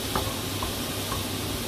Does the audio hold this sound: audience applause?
no